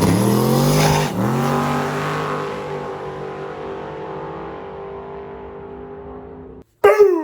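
Twin turbo LS-powered Mazda RX7 drag car accelerating hard down the strip, a loud sustained engine howl that fades steadily as it pulls away, then a sharp burst of noise at the end.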